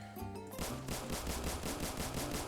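Glock 17 gunfire in a video game test place: a rapid string of evenly spaced shots, fairly close and crisp, after a brief quieter lead-in.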